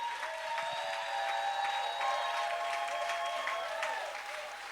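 A congregation at a worship service applauds and cheers for God, a steady wash of clapping that holds for the whole stretch, with a sustained tonal layer of voices or music running through it.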